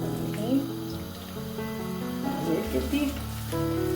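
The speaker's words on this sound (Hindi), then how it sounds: "ऑयल तकरीबन कुछ गर्म हो गया, प्याज हम ऐड कर देते हैं।" Onions go into hot oil for chana dal gosht and set off a steady crackling sizzle with some bubbling, close and continuous throughout.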